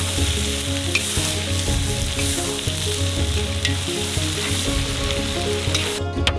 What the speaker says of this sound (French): Mettez les carottes. Faites-les frire pendant 2 minutes.